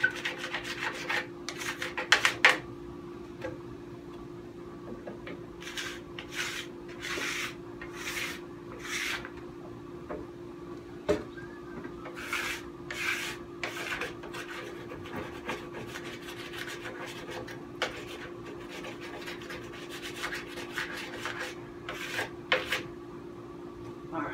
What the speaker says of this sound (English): Just a nice even application scrape the chunks off the tail.